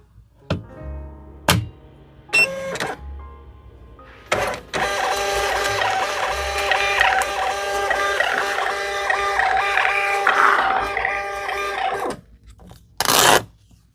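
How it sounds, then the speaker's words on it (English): Label printer running out Poshmark shipping labels, with a few sharp clicks and thumps of loading, then a steady mechanical whir of printing for several seconds and a closing tear or clack, close by with no talking. "Let's go ahead and put these labels in, and then I will print our Posh shipping labels"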